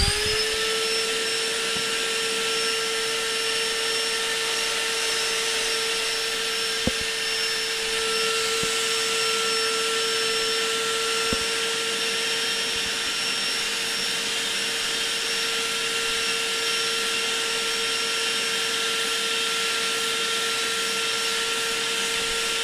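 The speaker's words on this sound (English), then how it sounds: "A little vacuuming can go a long way to prevent dust." Shop vacuum running in a DIY workshop during a CNC machine build, a steady loud motor whine holding at one pitch for the whole stretch, with a few faint clicks and no voices.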